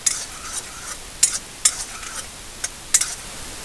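Mustard seeds, cashews and green chillies fry in oil for lemon rice, a soft sizzle under sharp, irregular scrapes and clinks of a spoon stirring the pan. The stirring is close and brisk, with no voices.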